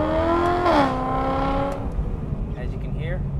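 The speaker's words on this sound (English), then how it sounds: "You can hear the exhaust, the induction noise, even while cruising" A BMW E93 M3 convertible with a tuned V8 cruises top-down, its exhaust and intake producing a steady droning hum with rising harmonic tones under a voice.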